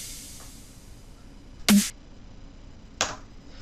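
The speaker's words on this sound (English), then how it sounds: "One with this long bright tail and one without it, and it sounds like this." Electronic snare drum sample hits twice, the first with a long bright reverb tail and the second dry and shorter, each a sharp crack over a faint background hiss.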